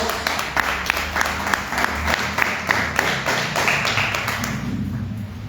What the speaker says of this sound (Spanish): Regale un aplauso a Dios.